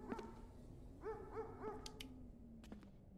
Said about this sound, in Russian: А собака чё гавкает?